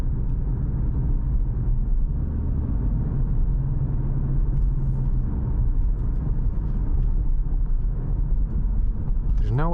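A Subaru Outback wagon with a CVT accelerates from inside the cabin, a steady low engine drone and road rumble holding evenly throughout, with a brief rising whine near the end.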